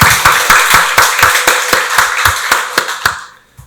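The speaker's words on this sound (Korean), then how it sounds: "박수로 하나님께 영광 돌리겠습니다" A church congregation at Sunday worship clapping in steady rhythmic unison, loud and close, about four claps a second, stopping abruptly at the end.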